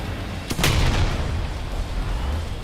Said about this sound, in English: Engineers that designed this 40mm gun found a great balance between its caliber and fire rate.